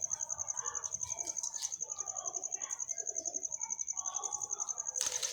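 A female pigeon flies in and settles in the dark, with soft wing flaps and a burst of flapping near the end, while people talk quietly and a constant high electrical whine runs throughout.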